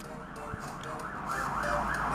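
An emergency vehicle siren wails steadily outside, its rising and falling tone cycling continuously and growing slightly louder toward the end.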